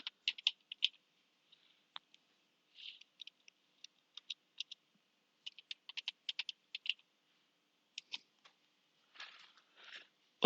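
Someone types a search into Google on a computer keyboard, with quiet scattered key clicks in short bursts and pauses, close and clear against a silent background.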